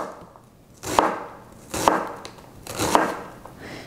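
Three separate knife chops through an onion land about a second apart in an even rhythm. Each is a crisp, close blade-on-board knock, with quiet gaps between and no talking.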